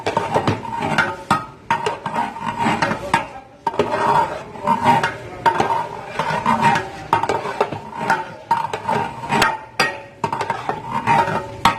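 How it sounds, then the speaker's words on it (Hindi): A spoon stirs a thick khoya mixture in a large pot for wedding-style sweet rice zarda, making repeated scraping and knocking strokes against the metal at a steady, uneven rhythm, close and fairly loud. "अब इसको मिक्स कर लेना है।"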